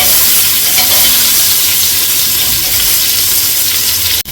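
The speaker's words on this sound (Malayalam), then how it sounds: "അതിലോട്ട് ഈ സവോള ചേർക്കാൻ പോവുക." Sliced onion sizzles loudly in a hot pan with crushed ginger and garlic for a mushroom biryani, a steady, close frying hiss that cuts off abruptly at the end, with no one speaking.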